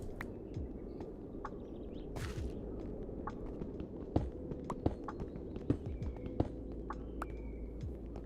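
Horse hooves in the Minecraft video game clop in scattered, irregular steps, each a sharp close tick over a steady low background hum.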